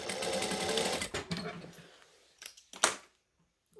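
A sewing machine stitches fabric over pins, running not at full speed in a steady buzzing whir that slows and fades, followed by a few short clicks and handling noises.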